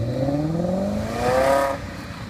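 A car with its muffler deleted pulls away on a test drive after strut work, its engine note rising through gears in a steady harmonic drone that swells and then fades as it moves off, with no voices.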